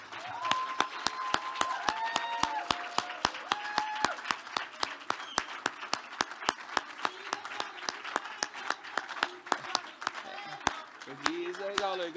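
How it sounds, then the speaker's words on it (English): A conference closing audience stands and applauds colleague Elena Cherneva, a steady patter of many hands heard from a distance, with sharp nearer claps punctuating it and voices and cheers rising over the applause. "I would like to ask everyone to stand and applaud our colleague, the networking Zen master, and our beloved Madame, Miss Elena Cherneva"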